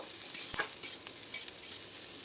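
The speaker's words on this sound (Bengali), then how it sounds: "এখন বেশ ভালো করে সবজিগুলি নেড়ে চেড়ে নেব" Vegetables for chicken chow mein are stirred in a frying pan, giving soft, intermittent scrapes and clatters of a spatula over a faint sizzle, close and fairly quiet.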